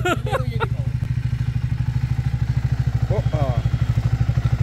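A Triumph Speed 400 motorcycle engine runs just after starting, its steady rhythmic idle thumping close and loud throughout while people talk over it.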